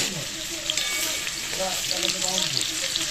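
Steady sizzling of potatoes frying in a pan, with occasional stirring and scraping sounds, continuous and close.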